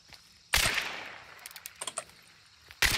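Enemy gunfire in Hunt: Showdown comes as two loud, sharp shots about two seconds apart, each with a decaying echo, and a few faint clicks fall between them.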